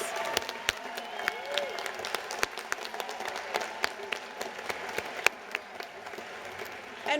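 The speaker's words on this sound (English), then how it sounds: "Can we please get a round of applause for all of our Master of Science Nursing graduates?" A commencement crowd at a university ceremony applauds its Master of Science Nursing graduates with sustained, even clapping from many hands, and a few louder claps stand out from the mass.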